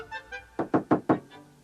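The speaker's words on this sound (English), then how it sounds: "There was a knock on the back door." Four firm knocks on a back door in a quick, even sequence, heard close and alone with faint softer taps before and after.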